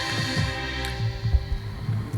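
An electronic heartbeat effect thumps as low, deep double beats over a steady hum, and the pulses come quicker and quicker as it speeds up.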